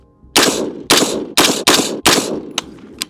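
Rifle fired at a range silhouette target using 55 and 77 grain rounds: five sharp, loud close shots in quick uneven succession, followed by a fainter crack at the end.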